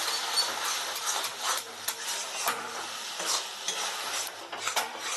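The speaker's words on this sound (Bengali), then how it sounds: "টমেটো পেস্ট মশলার সাথে খুব ভালো করে মিশিয়ে নিচ্ছি" Tomato paste and spices stirred in a pan while cooking jackfruit kalia, a steady sizzle under repeated close scraping and clinking of a spatula.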